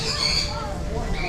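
A duck squawks loudly and harshly, close by, amid background chatter and noise.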